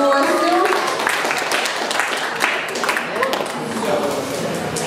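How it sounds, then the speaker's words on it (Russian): Wedding guests applaud together, a dense, steady patter of many clapping hands at moderate loudness, with voices mixed in underneath throughout. "Аплодисменты нашему гостю"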